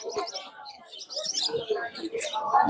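Many small birds chirp and tweet together at the Mirpur bird market, where Java sparrows and diamond doves are kept: a dense, close chorus of quick high calls with soft cooing and people talking in the background.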